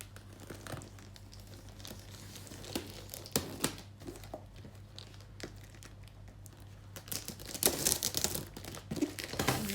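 A parcel being opened for an unboxing, with scattered crinkles, tears and rustles of packaging, mostly soft with a few sharper crackles and a louder flurry of handling toward the end.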